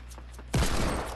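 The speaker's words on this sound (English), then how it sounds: "Just pelted him with bullets." A sudden loud burst of rapid gunfire in a Fortnite Team Rumble match erupts after a quieter moment, with a volley of overlapping shots.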